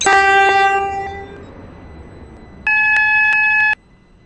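A class 379 train horn sounds twice, a short blast followed by a longer sustained tone, over a quiet rumbling background with no voices.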